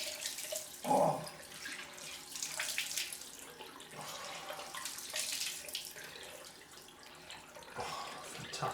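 Cold water runs from a bathroom tap into a sink for a rinse after a wet shave, a close, uneven gush and splash with brief louder bursts as hands move through the stream.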